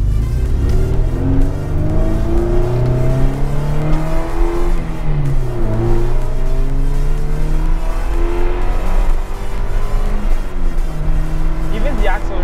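A Toyota MR2 accelerating hard from inside the cabin, its engine rising in pitch through the gears with brief dips at each shift, loud and continuous, with people talking over the drone.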